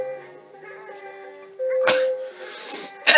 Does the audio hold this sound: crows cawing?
no